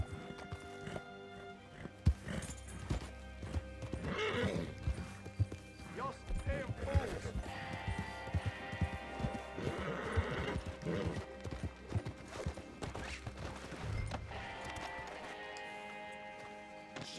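A horse in Red Dead Online clip-clops steadily on hooves and neighs a few times, fairly faint, with someone talking over it and a sudden crash partway through.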